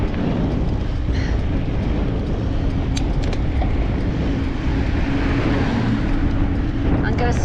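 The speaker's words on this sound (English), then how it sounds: "There's a good breeze blowing across the lake." A strong breeze blows across a lake on a bikepacking ride. It comes through as loud, continuous wind buffeting and rushing noise that never lets up.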